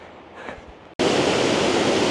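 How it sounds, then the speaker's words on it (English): A waterfall cascading over rocks in Killarney National Park gives a loud, close, continuous roar that cuts in abruptly after a quieter moment, with no voices. "really great waterfall. You can see it just cascading down the rock"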